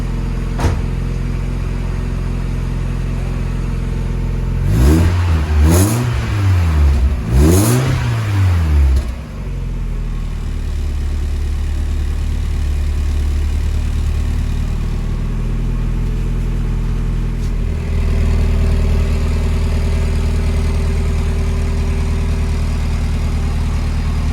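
A Mk1 Mazda MX-5 with an IL Motorsport cat-back exhaust revs hard twice, then settles back into a steady, rumbling idle that drones on at close range.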